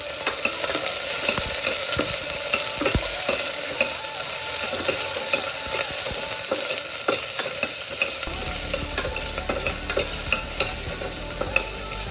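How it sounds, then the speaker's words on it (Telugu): Onions and chilli fry in a pot while a ladle stirs them, giving a continuous bright sizzle broken by frequent sharp metallic scrapes and taps throughout. "అన్నీ వేసేసాక ఒకసారి గరిటతో ఆనియన్స్ వేగే వరకు కలుపుతూ ఉండండి"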